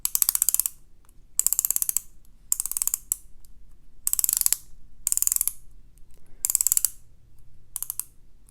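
Rotating bezel on a 2023 Tag Heuer AquaRacer dive watch turned in short bursts, each a fast run of sharp, close ratcheting clicks separated by brief silences.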